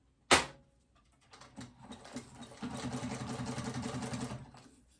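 A sewing machine stitches the seam of a fabric phone pouch, starting with a sharp knock, then a short pause before a steady, fairly loud run of rapid mechanical stitching that builds and holds.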